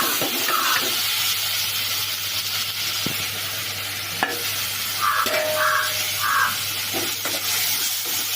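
Tomatoes sautéing in a pan for a traditional fish curry give a steady sizzling hiss with occasional scraping stirs and a few short clinks, near and continuous with no talk.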